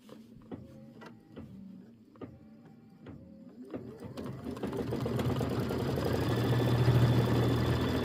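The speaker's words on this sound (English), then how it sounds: "We're going to skip and go to the quilting stitch. And let's go ahead and quilt." A Kimberbell embroidery machine starts a quilting stitch with a few spaced mechanical clunks, then settles into a loud, continuous rapid whirring hum close by.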